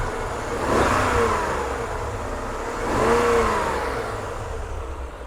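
A fully warmed-up 2001 BMW M5 sedan engine revs twice, each blip rising in pitch then falling back to idle, loud and close with no talk over it.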